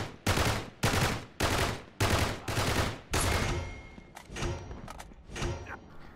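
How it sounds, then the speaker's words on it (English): Blind fire in the Uncharted 3 multiplayer beta: a rapid run of about six loud gunshot bursts in quick rhythm, then several thinner, more distant shots trailing off. "There's a few examples here of just how effective blind fire is."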